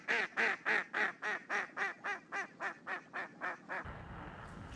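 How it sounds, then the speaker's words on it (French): A duck, dropped in as an added effect, quacks about a dozen times in a steady, evenly spaced rhythm, loud and close. The quacks then stop and a low rumble takes over. "Au montage, je vais essayer de vous trouver un son de canard."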